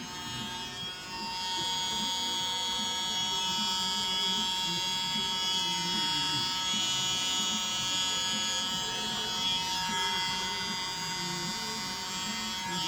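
A mini electric blower whirs steadily as it disperses acrylic paint on Christmas baubles, a close, continuous high buzz lasting throughout with faint background murmur.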